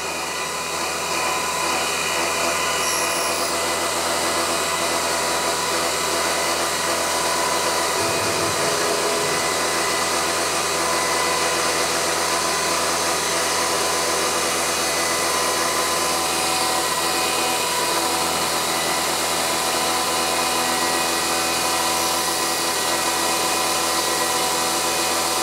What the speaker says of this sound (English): the whole table is moving, and it's beginning to cut the slot